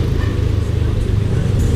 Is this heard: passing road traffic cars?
yes